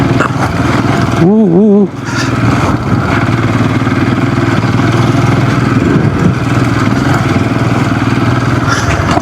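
A Scram 440 motorcycle engine labours up a mountain climb in second gear, a loud, close, steady drone throughout, with a brief vocal exclamation over it early on.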